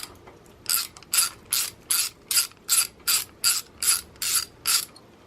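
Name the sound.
ratchet undoing Norton Commando rocker cover bolts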